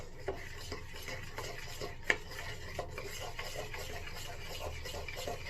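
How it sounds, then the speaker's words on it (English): Spoon stirring a thick DIY deodorant paste of cornstarch and essential oils in a bowl, a quiet continuous scraping and rubbing with faint scattered clicks and one sharper tap against the dish. "And as I stir, it's turning into a paste"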